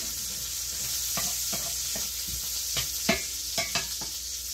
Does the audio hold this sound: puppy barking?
no